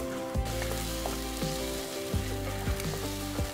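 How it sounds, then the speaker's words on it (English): Two grated tomatoes sizzle with browned onions and pounded ginger in a pan for dry fish curry, a close, continuous frying hiss over a humming background, with a few soft stirring bumps. "Next, I'm going to add 2 grated tomatoes."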